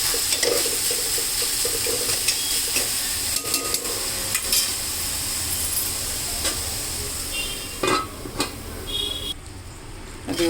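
Kondapindi leaves fry with tomato in a pan, giving a steady close sizzle broken by scraping and clinking stirring strokes.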